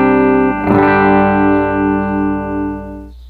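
Electric guitar played through a Line 6 Helix HX Stomp in stereo: a struck chord rings out loud and sustained for about three seconds with a slightly wavering, effected tone before cutting off.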